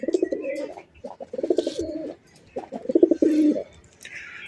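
Fancy show pigeons give a pigeon's repeated soft cooing in three or four close, clear phrases with short pauses between, and faint background noise.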